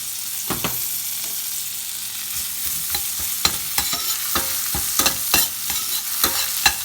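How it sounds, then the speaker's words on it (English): Ginger garlic paste sautés in a hot pan for a button mushroom coconut cream curry, a constant close sizzle punctuated by sharp spatula stirs and scrapes that come faster toward the end. "Saute it well until the raw smell gone."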